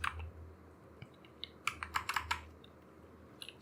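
Irregular bursts of keystrokes clatter on a computer keyboard while Java code is typed, with soft quiet gaps between flurries over a low hum.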